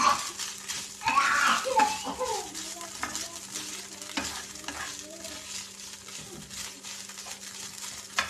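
Rice with chopped hotdog sautéing in a pan, made as a small single-serving fried rice. A steady close sizzle runs under repeated spatula scrapes and stirring rattles, with no talk.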